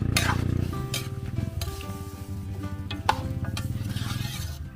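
A pot of spicy chicken adobo simmering in coconut milk with papaya, cooked farm-style, is stirred steadily, with continuous low sizzling and bubbling plus occasional spoon clinks against the pot.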